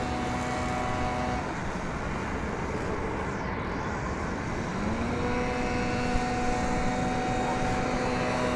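Steady, loud roar of a jet aircraft landing close by at DFW Airport, with engine tones shifting partway through as it passes, over constant broadband rumble.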